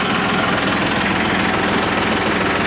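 A tractor engine idles close by, a steady low, throbbing chug with even rhythmic pulses and a dense mechanical rumble throughout, no talking.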